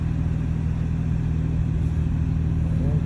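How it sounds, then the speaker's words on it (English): Climate control blower motor running in a BMW 335i, a steady low droning hum and whoosh of air close by, constant throughout with no change in pitch. "I don't know if y'all can hear that, but the climate control turned on."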